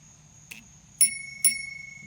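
Bell on a Mafia Madmain stunt scooter rung three times, a faint first tap followed by two loud, bright dings with ringing tails, close and alone.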